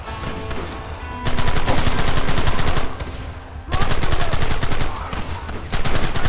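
Gunfire crackles in Red Dead Redemption as rapid, close bursts of shots rattle out in several long volleys, broken by brief lulls between them.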